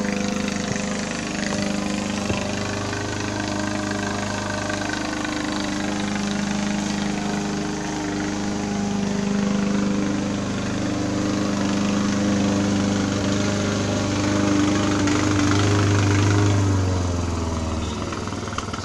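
A small engine runs steadily at a moderate distance with an uneven, wavering drone, its pitch and power rising and dipping as if sputtering toward running out of gas, with no talking.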